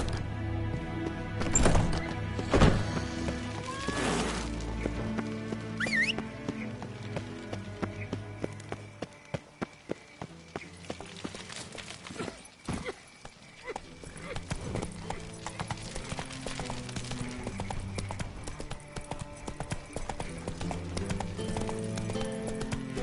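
Horse hooves clip-clop steadily as a horse is ridden in the video game The Witcher 3, a close rhythmic trot over a bed of game music and ambient sound.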